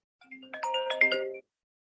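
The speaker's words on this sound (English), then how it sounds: "My phone's going." A mobile phone ringtone plays a short melodic phrase of layered bright tones for just over a second, moderately loud and close, then stops.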